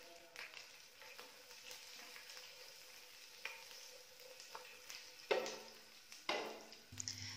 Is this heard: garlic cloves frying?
yes